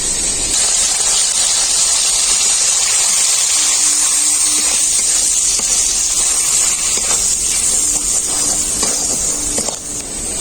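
A little water goes into a hot pan of well-fried vegetable stalks, and a steady, loud hiss and sizzle fills the whole stretch, with faint stirring scrapes beneath it.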